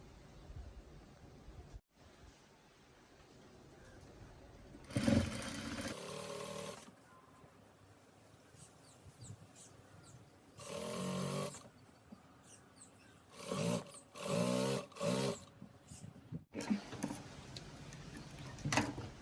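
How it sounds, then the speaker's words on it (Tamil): A sewing machine stitches a folded fabric hem to make a casing for elastic, running in several loud close bursts of rapid mechanical stitching separated by quieter pauses and handling sounds, without speech. "இந்த லாஸ்டிக் போடுறதுக்கு வந்து இதை வந்து நாங்கள் மடித்து தைப்போம்"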